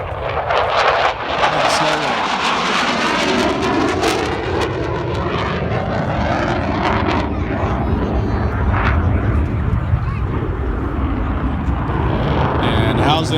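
SAAB Gripen fighter jet at the Swartkops Air Force Show climbing steeply after a high-G turn, its engine roaring loud and continuous with a sweeping tonal shift throughout, an announcer talking over it on the PA.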